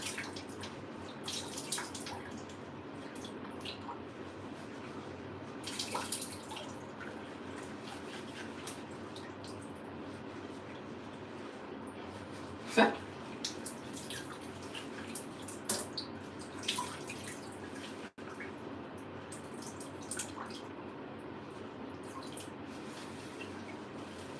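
Water slowly drains and drips out of flooded printing lab equipment, faint and steady, with occasional small splashes and taps against a low background hiss.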